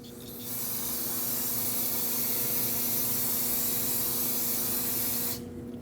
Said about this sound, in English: Now you want to rinse it down with some brake parts cleaner to get rid of all the dust.